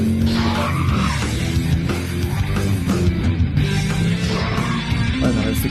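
Car tyres screech and skid continuously in a VR racing video game, with a constant engine roar throughout and no pauses.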